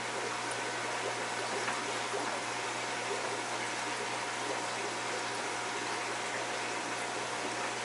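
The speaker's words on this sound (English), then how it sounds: "I'm just pouring the fish through a net." Fish and water poured through a net into a 150 aquarium, a steady close splashing trickle and gush of water running continuously throughout.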